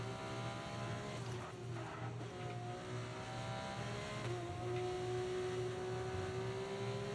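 Formula 2 race car in the F1 25 racing game, engine droning loud and steady as it sweeps through a corner, with a rising whine holding throughout and no talk.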